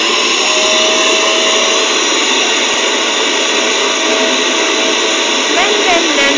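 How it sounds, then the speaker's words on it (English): A vacuum cleaner hoovers a pet guinea pig, a steady, loud motor whine with a bright high hiss running continuously and close up, with only slight wavering in pitch throughout. "I'm just going to clean up the rest of the cage by hoovering one of my guinea pigs"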